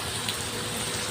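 Rain falling steadily on a house visit, a dense continuous patter and hiss of drops on surfaces, even and unbroken, with no voices.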